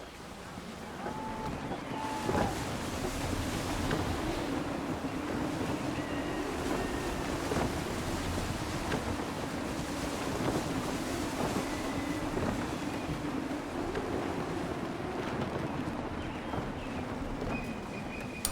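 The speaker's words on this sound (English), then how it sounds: "Gusty winds can be difficult to manage." Steady wind and rushing waves while sailing a ship in Assassin's Creed III, a continuous loud wash of surf and gusts with creaking and faint tonal calls over the top, lasting throughout.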